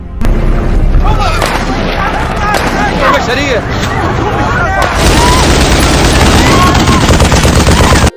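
Loud, dense gunfire from an ISIS sniper attack on civilians in a war film rattles continuously, sharp cracks and bursts layered with booming reverb while a narrator talks over it.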